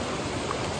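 A swollen stream rushes close by after rain, with a dense, steady roar of flowing water and no voices.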